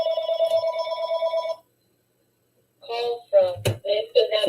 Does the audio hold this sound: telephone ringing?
yes